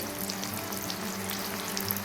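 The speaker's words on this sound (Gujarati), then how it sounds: "જોઈ લો આપણું તેલ ગરમ થઈ ગયું છે અને સૌ પ્રથમ આપણે એમાં ડુંગળી એડ કરી છે." Onion frying in hot oil as the base for pav bhaji makes a steady, close sizzle with faint crackles and a little stirring, and no voices are heard.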